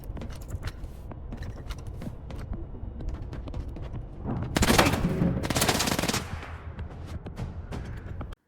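Rapid machine gun fire in S.T.A.L.K.E.R. 2, steady bursts throughout with a louder, denser fusillade in the middle, no talk over it.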